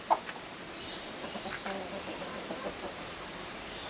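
Hens cluck in a backyard chicken coop in tropical Far North Queensland, Australia, a few soft, scattered clucks over a quiet, steady outdoor background.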